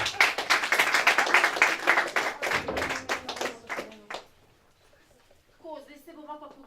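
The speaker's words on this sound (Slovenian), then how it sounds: "In en aplavz!" Audience at an improv comedy show bursts into a few seconds of dense clapping and applause that tapers off, followed by someone speaking near the end.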